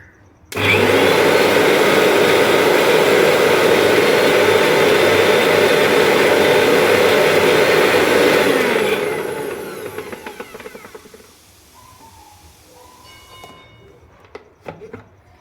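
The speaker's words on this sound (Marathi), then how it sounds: "तर चला आता हे एकदम बारीक, जेवढं बारीक होईल ना तेवढं आपल्याला मिक्सरला लावून घ्यायचं आहे." A kitchen mixer grinder whirs loudly and continuously while grinding green chillies and garlic, then winds down and stops, leaving faint clicks and handling noise.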